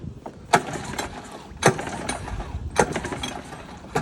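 Three sharp pull-start yanks on a Honda 9.9 outboard motor come at roughly one-second intervals, each a brief rattling whir that dies away without the engine catching.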